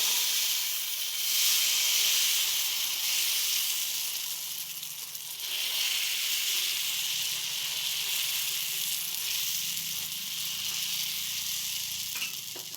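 Jackfruit dosa batter sizzles on a hot griddle, giving a steady, fairly loud hiss that carries on without a break from start to end, with no voices over it.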